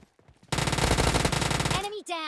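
Rapid submachine gun fire in PUBG Mobile Lite, one loud sustained burst of closely spaced shots lasting about a second and a half, followed by trailing game effects and a short tonal sound.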